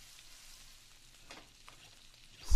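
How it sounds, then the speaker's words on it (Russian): Donuts frying in the Sausage Man video game give a soft, steady hiss and sizzle with faint crackles, quiet and continuous, ending in a brief louder burst. "Смотри, какие-то пончики жарят или что это такое."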